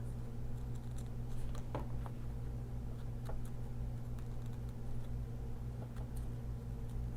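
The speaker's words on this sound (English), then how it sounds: "I'm going to use this seam ripper to rip these lines that I made" A seam ripper picks out stitched lines in vinyl, giving faint, scattered small clicks and snips over a low steady hum, quiet and close with no talking.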